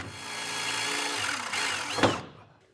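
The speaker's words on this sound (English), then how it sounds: "I'm going to take an 1/8 inch drill bit and drill up through the center of each of our holes" A power drill with a 1/8 inch bit whirs steadily for about two seconds, bites up through a 2018 GMC truck's frame member with a brief grinding rise, then winds down to silence.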